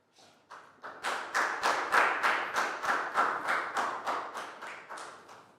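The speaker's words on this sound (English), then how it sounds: "Big round of applause for down." A small class of pupils claps together in a steady, rhythmic beat, around a dozen evenly spaced claps that start softly and grow louder, close and clear with no talking.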